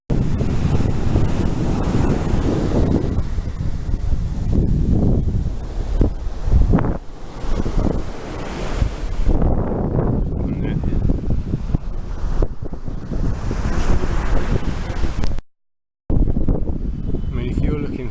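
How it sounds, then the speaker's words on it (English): Surf washes onto an empty beach in Nha Trang, Vietnam, while strong wind buffets the microphone, a loud rumbling roar with breaking waves and a brief dropout near the end; a voice speaks faintly at times. "I present you with an empty beach."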